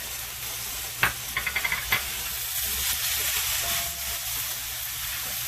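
Mung beans, bean sprouts and carrots hit a hot pot with a sudden burst of steamy sizzling, then a steady loud hiss of frying with a few soft clinks early on.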